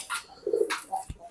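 Pigeons coo in a short burst, soft throaty calls close by with a brief flutter of sound between them, and no voices.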